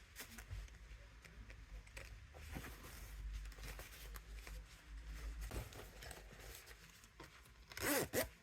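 Zipper being opened on a small sewn fabric pouch during a sewing project, with several short rasping pulls, the last burst louder near the end, alongside quiet handling of the fabric.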